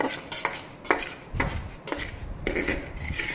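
A utensil scrapes and stirs a pineapple avalose mixture in a pan over medium flame, with repeated rhythmic scraping strokes and soft clanks, close and clear with no talking.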